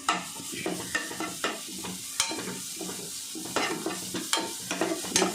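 Food is sautéed in a pan with half a tomato added, giving a sizzle broken by frequent scraping stirs in an uneven rhythm. The sound is close and moderately loud, with no speech.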